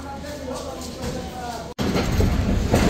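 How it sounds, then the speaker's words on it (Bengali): A train pulls out of Santahar Junction station on a cold January day, a continuous rumble of rolling carriages with rising wheel and rail clatter after a brief cut, and a voice talks faintly beneath. "নির্ধারিত সময়ে যাত্রাবিরতি শেষে ট্রেনটি ছেড়ে দিয়েছে সান্তাহার জংশন স্টেশন"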